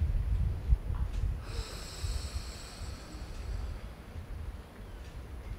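Slow, deep nasal breathing during a calming paced-breath exercise, with soft airy inhales and exhales over a low background hum.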